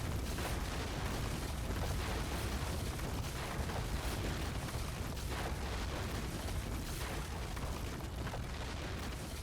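Loud, continuous battle explosions and booming blasts from a Total War: Third Age fantasy campaign battle, a dense unbroken roar of detonations filling the whole stretch with no talk over it.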